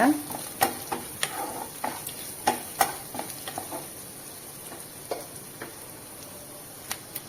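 Curry leaves are stirred into a sizzling pan for manathakkali keerai kootu, a greens dish made with coconut milk: scattered scrapes and clicks of the spoon over a steady frying hiss, close up.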